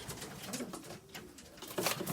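Racing pigeon cocks in a South African loft cooing softly, a low murmuring under steady background noise from the birds, with no talk.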